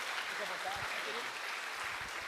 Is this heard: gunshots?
no